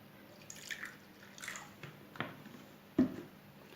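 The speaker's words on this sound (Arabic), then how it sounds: "هحط معلقتين من الخل اهو" Two spoonfuls of vinegar go into a chicken breast marinade, a few quiet wet drips and small splashes spaced over a few seconds, the last one slightly louder, in a quiet kitchen.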